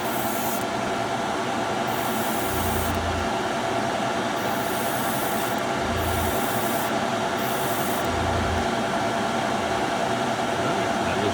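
An airbrush sprays pearl coat paint onto a fishing lure painted in a sunset perch pattern, giving a steady close hiss with short bursts of stronger spray every couple of seconds.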